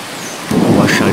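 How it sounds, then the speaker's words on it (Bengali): A thunderstorm with rain: a soft rain hiss breaks into a sudden loud, close rumble and crackle after half a second that continues to the end. "ঝড়ের তাণ্ডব থেমে গিয়ে হালকা বৃষ্টি হচ্ছে"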